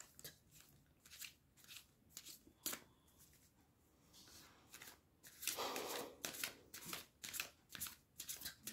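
Tarot advice cards shuffled and drawn by hand, giving a run of quick papery riffles and snaps in close bursts, with a denser rustling stretch midway, no talking.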